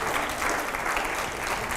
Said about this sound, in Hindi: जरा जोरदार तालियां हो एक बार।